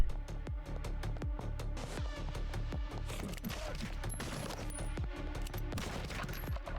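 Rapid bursts of gunfire fill a football-themed video game, Tackle for Loss, with dense, sharp repeated shots in quick succession and scattered booms, loud and continuous with no speech.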